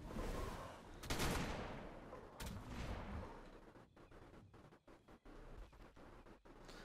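Rapid gunfire rattles in the video game ARK during a raid, with dense bursts of shots followed by sharp, separated cracks, loud and close, with no talking.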